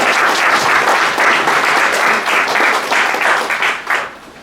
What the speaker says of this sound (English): Can I just take this moment to just give them a round of applause